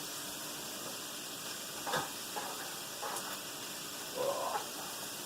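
Shrimp for Fra Diavolo dropped into a hot pan with peppers, a steady hiss of frying broken by several short louder sizzling bursts as pieces hit the oil, close by and without talk.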